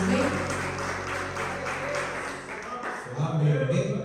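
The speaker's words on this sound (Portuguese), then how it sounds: "Aplauda o Senhor bem forte" Church congregation applauding during an evening worship service, a dense steady roar of clapping with voices and music underneath, dipping briefly before swelling again.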